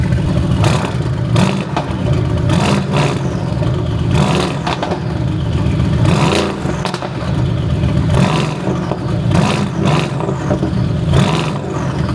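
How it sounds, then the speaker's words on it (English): A Nissan GT-R engine revs loud and rough in repeated bursts, rattling and clattering near at hand without a break, with no talk over it. "See if I can get a bit of a rev off."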